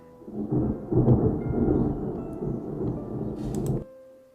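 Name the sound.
thunder sound effect synced with lightning in video edit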